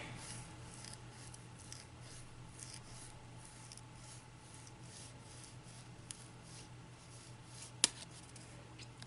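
Scissors snip and trim along the jagged edge of a paper flower with soft, quiet, repeated cuts and light rubbing, close by and alone, with one sharper click near the end.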